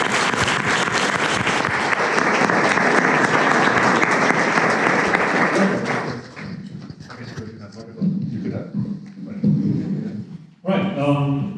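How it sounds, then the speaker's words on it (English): An audience at a technical conference talk on GHC breaks into loud, dense applause for about six seconds, which then fades as a speaker begins talking. "So let's get them a round of applause."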